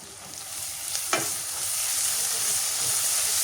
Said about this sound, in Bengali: এবার সব বাটা মশলা দিয়ে দিই নুন হলদি মরিচ আদা রসুন বাটা জিরা বাটা সবগুলো একসাথে দিয়ে দিই